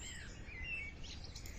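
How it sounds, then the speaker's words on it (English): Birds sing in a downloadable sound effect, with faint, high chirps and a short trill drifting over a quiet background hush for under two seconds, with no voices present. "you can hear the birds singing"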